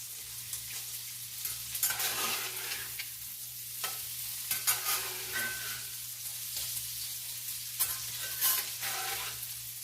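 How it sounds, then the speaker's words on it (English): Bacon frying in a pan until crispy, a soft continuous sizzle and crackle with occasional stirring scrapes, fairly quiet over a low steady hum, no voices. "we're just going to cook the bacon until it gets crispy"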